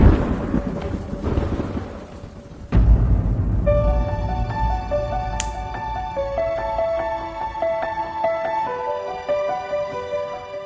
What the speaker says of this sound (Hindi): बाहर इतनी तेज बारिश हो रही